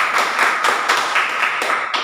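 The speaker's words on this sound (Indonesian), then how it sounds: "Tepuk tangan juga untuk Feni Ros." Classroom applause at a junior high school, a lively burst of many hands clapping together, close and bright, continuing steadily for a couple of seconds with no talk.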